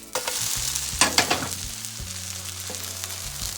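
A vegetable pancake sizzles steadily in a hot pan, close and moderately loud, with a few sharp spatula scrapes and clatters near the start as it is flipped.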